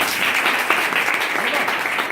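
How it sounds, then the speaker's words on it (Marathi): A crowd claps loudly and continuously, a dense wash of applause throughout. "जोरदार टाळ्या व्हायला पाहिजे"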